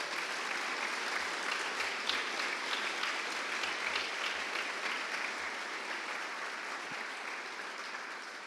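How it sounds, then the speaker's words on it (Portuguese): A church congregation applauds together, sustained clapping from a large crowd filling the room for over eight seconds and slowly easing off toward the end, with no speech over it. "Dê o seu melhor aplauso a Jesus."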